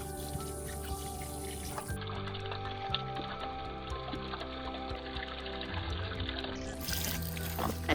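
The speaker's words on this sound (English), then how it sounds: "Last thing I'm going to do is to just water in some of this food." Water mixed with plant food is poured onto garden soil for newly planted hibiscus, a steady splashing trickle that runs for several seconds under background music.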